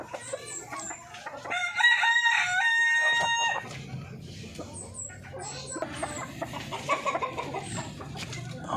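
A darag native rooster crows loudly and close in a backyard farm, with other chickens clucking and cackling around it through the rest of the moment.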